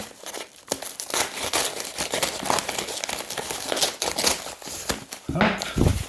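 A padded envelope parcel holding video games is torn open close up: continuous loud crinkling and ripping with brief pauses and a sharper tear near the end, with no talking.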